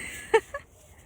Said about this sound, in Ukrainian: Вони крякрякнули